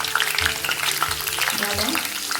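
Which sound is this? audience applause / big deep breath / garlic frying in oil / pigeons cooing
garlic frying in oil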